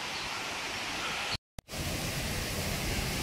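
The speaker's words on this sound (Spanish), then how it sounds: "Y aquí pues vamos llegando a la cascada de la Rosa" Cascada de la Rosa waterfall at Huasca de Ocampo, a steady broadband rush of falling water that fills the scene, briefly cutting out for a moment midway before resuming at the same level.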